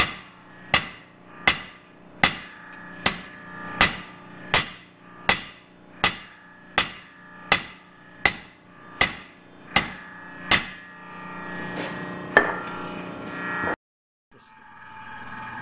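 Sharp, ringing hammer blows on a steel spring being shaped into a spud, about a dozen evenly spaced strikes up close, then a pause and a few quieter knocks.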